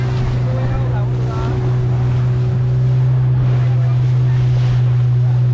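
Motorboat cruising over the sea off a Goa beach, its engine a steady loud drone under constant wind buffeting and water rush, close to the microphone throughout.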